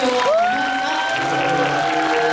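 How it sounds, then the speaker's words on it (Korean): An audience at a live talk event with a film actor claps to close the session, a continuous wash of applause with faint crowd noise and a clear rising whistle near the start. "저희 큰 박수 치면서 이 자리 마감하도록 하겠습니다"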